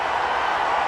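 Crowd noise at a cricket match, a broad steady roar of spectators cheering just after a run out, loud and continuous with no speech on top.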